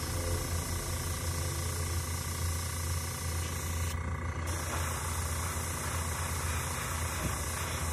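An airbrush sprays leather dye up close, giving a steady, even hiss that runs the whole time with only a brief shift in tone partway through.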